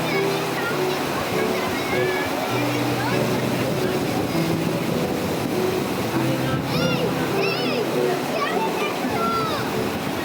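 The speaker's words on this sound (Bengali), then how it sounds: "এই ঝড় বৃষ্টির মধ্যে দিয়েও দেখুন একটা নৌকা কত স্ট্রাগল করে করে এগিয়ে যাচ্ছে" A small boat pushes through a storm with heavy rain in the Sundarbans during monsoon, a steady dense roar of rain and churning water throughout, with a person talking over it.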